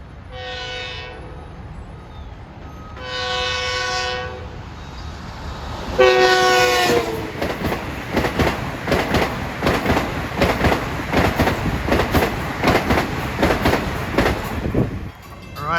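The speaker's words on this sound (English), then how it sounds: "approaching at 10:22 is train 1916, Penn Station to Ronkonkoma, and he's got a brace of Kawasaki M9s" An LIRR train of Kawasaki M9 cars approaches a grade crossing on the Ronkonkoma Line, sounding several loud horn blasts, then rumbles past close by with steady rhythmic wheel clatter.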